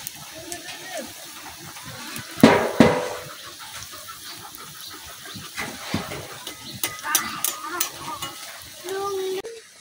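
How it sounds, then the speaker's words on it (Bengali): Rice flour pitha fry in hot oil, with steady sizzling and bubbling throughout and a loud burst of spatter as more batter goes in. A person talks over the frying. "3টা পিঠা ভাজা লই আগে"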